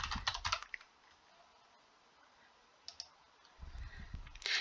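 A computer keyboard clicks in a quick burst of keystrokes, goes quiet, then types another short burst, close and clear, with no talking.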